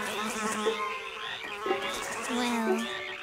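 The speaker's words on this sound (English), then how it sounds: "Oh, the frogs. Well, you sort of get used to them. They're so noisy." Cartoon frogs croak in a steady chorus at night, their rhythmic, buzzy calls repeating and overlapping, with insect-like trilling mixed in, continuous and fairly loud throughout.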